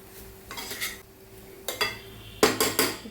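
A utensil scrapes and clinks against a pan while stirring rava laddu mixture with jaggery, in three separate bursts of rattling strokes with brief quiet pauses between them.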